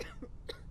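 A video game character in Quarantine Zone: The Last Check coughs three quick, dry times in close succession, quiet and close, with no talk over it.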